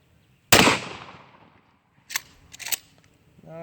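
A shotgun fires a single loud buckshot round at an outdoor range, a sharp close blast that decays over about a second, followed by a few quieter clicks and handling sounds of the gun.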